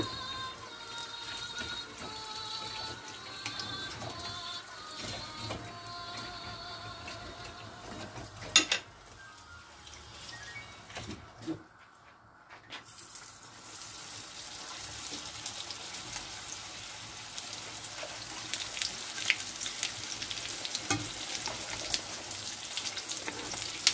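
Brik pastry fries in plenty of oil on a stovetop, a soft continuous sizzle and crackle with a few clicks and a brief quiet dip midway, with no talking.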